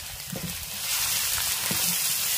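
Chopped ginger for puli inji fries in hot oil with a loud, constant crackling sizzle, punctuated by a few soft stirring knocks.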